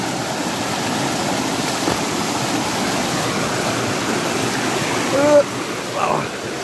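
River current flows in a constant, broad rush of water around someone crossing to catch crabs, steady and fairly loud from start to finish.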